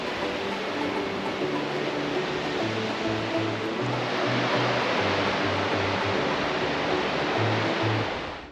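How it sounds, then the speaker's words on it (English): A waterfall in Glacier National Park pours with a steady, broad rushing roar that holds evenly throughout, moderately loud, with faint low hums running beneath. "A beautiful waterfall up here."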